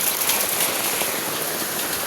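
Heavy rain pours steadily near a cave entrance, a dense, unbroken hiss of drops striking surfaces at close range with no voices over it.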